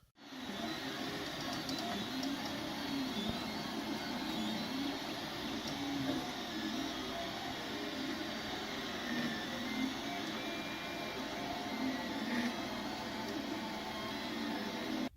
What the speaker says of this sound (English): So I just finished 3D printing the mount that holds the Google Home Mini in place.